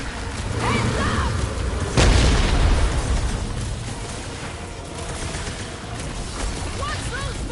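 Bombs exploding in the video game Marvel's Guardians of the Galaxy, a heavy boom near the middle amid ongoing combat blasts and pops, with game voices and chatter running over the action.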